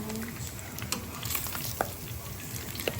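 A pork chop fries in a pan with steady crackling sizzle, punctuated by a few sharper pops and occasional scraping from stirring, close and moderately loud.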